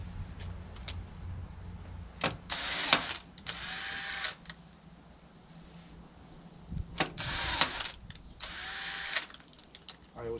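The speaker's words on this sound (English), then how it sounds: "drill it, grabbed it, popped it, and then go in reverse" A power drill running in reverse to back out a screw whirs in several short bursts, close by, separated by quiet pauses with faint background noise.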